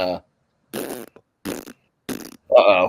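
A voice mimics a fart noise in several short, buzzy bursts spaced about half a second apart, ending with a louder, longer raspberry, heard up close with no other sounds.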